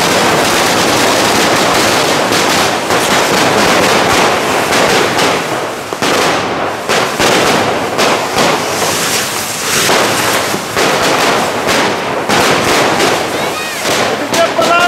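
A firework show set off inside an enclosing cage on a busy shopping street throws out a dense, loud, continuous barrage of rapid crackling bangs that barely lets up from start to finish.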